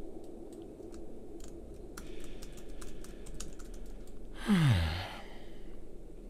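Scattered soft key presses on a computer keyboard click quietly over a low background hum, with a brief louder swoosh in the middle and no talking.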